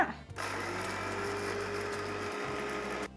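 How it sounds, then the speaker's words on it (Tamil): A mixer grinder whirs steadily and loudly as it powders roasted mustard and fenugreek seeds, running continuously for about three seconds before cutting off, with a brief dip in motor pitch partway through. "இதை நம்ம மிக்சி ஜாருக்கு மாற்றிக்கலாம் நல்லா நைஸாக பவுடர் பண்ணி எடுத்துக்கோங்க"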